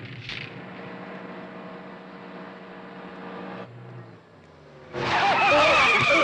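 A car in a Hindi action film scene drives with a steady engine drone for several seconds, eases off briefly, then bursts into a loud, close tire skid with squealing at the end.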